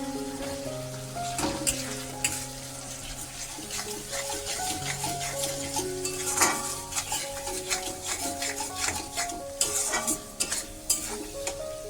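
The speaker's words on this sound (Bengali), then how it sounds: "মশলাটা একটু ভালো করে লাল লাল করে ভেজে নিই" Spices being stirred and fried in oil in a pot for a biryani made with egg, soybean and potato, a steady sizzle under repeated scraping and clinking of a spoon against the metal, close and continuous, with music playing throughout.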